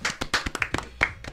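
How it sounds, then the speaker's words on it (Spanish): A small audience gives a short burst of close, sharp hand claps, only a handful of quick strikes in about a second. "un aplauso para..."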